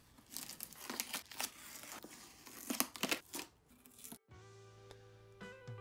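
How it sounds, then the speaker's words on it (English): Masking tape peeled off a red-painted cardboard helmet, giving a run of close, crackly tearing and crinkling strips in bursts, which ends abruptly and is followed by faint tonal background sound. "Taking off the tape has to be the best thing ever"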